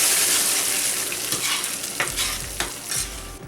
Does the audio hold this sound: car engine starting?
no